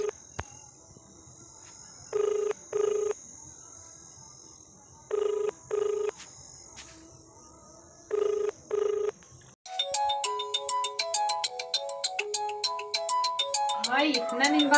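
A mobile phone call is being placed: paired ringback beeps repeat in a slow, even rhythm over faint insect-like background chirping, then a bright, busy musical ringtone cuts in and plays loudly to the end.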